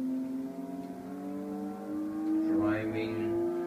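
Race cars idle around slowly on an outlap in the Live for Speed racing game, giving a steady, smooth engine drone with layered tones that swell slightly near the end, while someone talks over it.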